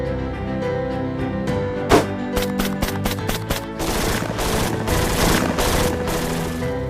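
Rapid bursts of gunfire from a weapon test-fired during a factory demonstration at a firing range, a string of sharp shots followed by a dense continuous volley, loud and close.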